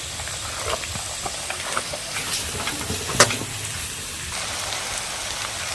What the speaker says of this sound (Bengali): ওই তেলে সবজিগুলা ভেজে নেব।